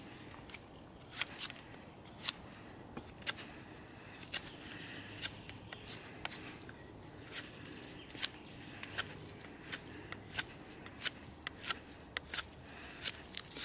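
A Cheburkov Medved (Bear) knife cutting wood, with sharp, crisp carving strokes repeating at a steady, slightly irregular rhythm, close up and distinct over a quiet background.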